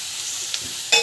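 Vegetables sautéing in a pan with chilli powder give off a soft, steady sizzle of hot oil, with a faint clink near the middle and a brief louder scrape of stirring at the end.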